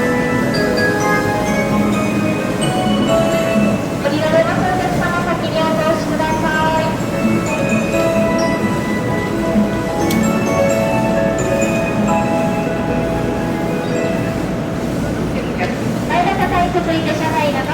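A Shinkansen 500 series Kodama local train at a busy station platform, crowded after typhoon delays: steady loud rumble and hum of the train under a continuous platform announcement with chimes and crowd noise.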